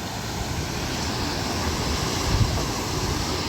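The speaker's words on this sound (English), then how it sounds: "It's quite windy," Strong wind roars across a mountain, buffeting the microphone with a loud, continuous broadband rush and no clear voice over it.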